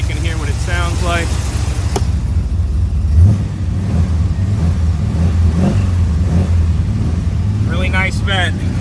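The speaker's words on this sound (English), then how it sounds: "I'll give it a little gas so you can hear what it sounds like" A 1980 Chevrolet Corvette C3 V8 engine idles with a deep rumble, then is revved a few times with short rises in pitch; someone speaks briefly at the start and end.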